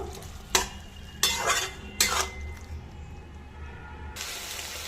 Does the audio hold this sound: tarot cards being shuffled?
no